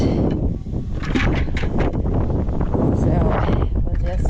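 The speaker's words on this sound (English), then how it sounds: "Of course, the wind is blowing" Wind blows hard outdoors on a farm, buffeting the microphone in loud, gusty rumbles that come and go throughout, with a person talking over it.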